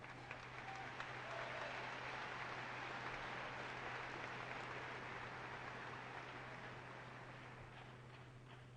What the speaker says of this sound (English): please stand and let us applaud you for raising such a great young lady.